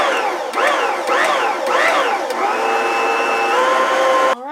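An electric mixer churns cookie dough with all-purpose flour, its motor whining in rising and falling sweeps, then holding a steady pitch before it cuts off abruptly. Loud and close, with no talking.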